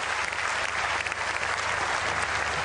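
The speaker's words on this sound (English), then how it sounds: "So I really like to thank the volunteers. Big applause." Sustained applause from a volleyball tournament audience, thanking the event volunteers at a world championship final; dense, steady clapping fills the whole stretch at an even level with no voices standing out.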